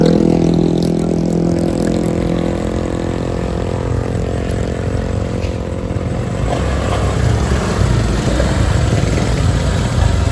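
A motorcycle engine runs close by with a steady, loud idle and mild revving throughout, with no talking over it.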